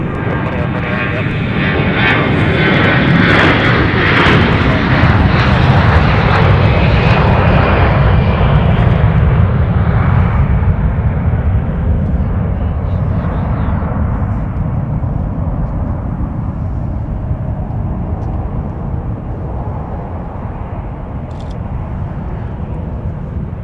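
A jet airliner roars at Minneapolis–Saint Paul airport, a loud broad engine rumble swelling in the first seconds and then easing gradually, with a voice talking over it.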